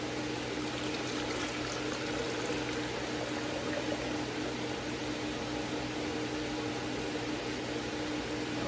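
Liquid pours steadily into a container for an aeroponic indoor garden setup, a continuous, fairly loud splashing hiss close by that runs evenly without pause and with no talking.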